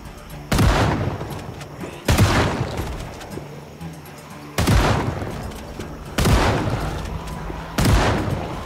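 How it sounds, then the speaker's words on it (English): Gunshots ring out in the video game Project Zomboid, five loud, spaced reports each followed by a long echoing tail, fired at intervals of roughly two seconds. "I could quell the flames, not with water, but with gunfire."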